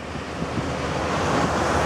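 Sea waves washing onto the beach at Praia Tomé in Chile, a steady, loud roar of surf with wind buffeting the microphone throughout and no voices.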